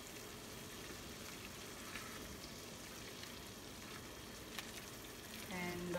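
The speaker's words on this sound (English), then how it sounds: "So here the tomatoes are cooking." Tomatoes cook in a pan in a heart-healthy kitchen demonstration, a soft continuous sizzle and crackle, fairly faint, with a brief clatter near the end.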